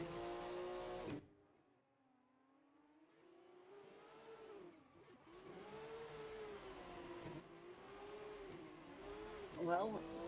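A drift car at Mondello Park, its engine revving hard on the throttle: a sharp burst, a brief lull, then rising, wavering high revs that surge and dip as the car slides, heard from a distance at moderate loudness.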